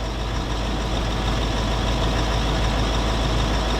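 A heavy Range Rover L322 TDV8 diesel engine idles steadily up close, a constant low rumble with no talking.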